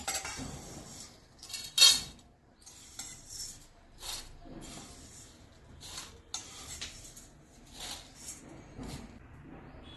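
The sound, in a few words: moving roasted oats from pan onto plate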